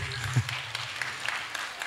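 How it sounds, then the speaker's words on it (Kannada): An audience claps at a sacerdotal silver jubilee felicitation programme after a dance performance; the applause is soft and steady with a faint murmur of voices underneath. "ದೊಡ್ಡ ಚಪ್ಪಾಳೆ ಒಂದು ಕೊಡಿ ಇವರಿಗೆ"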